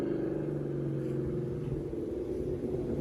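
A loud car engine idles with a misfire, a steady low rumble and drone close to the microphone with a slightly uneven, pulsing roughness throughout and no talk over it.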